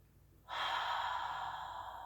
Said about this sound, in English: And 1 more deep breath,